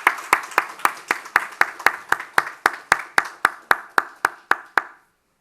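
A church congregation at a Korean Sunday morning service claps in unison, about seventeen crisp, evenly spaced beats in a steady rhythm that stop cleanly after five seconds.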